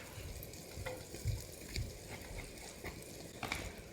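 Garlic sizzling in a pan for alfredo sauce, a steady soft crackle and hiss with occasional utensil scrapes and taps, close and fairly quiet.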